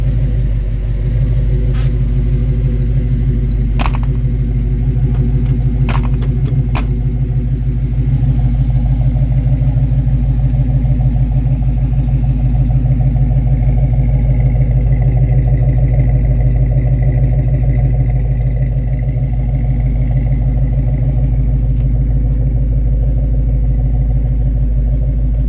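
A 1991 Chevrolet S10 Blazer engine idles steadily and close up, a loud continuous low rumble with a faint rhythmic clatter and a few brief clicks early on, no talk.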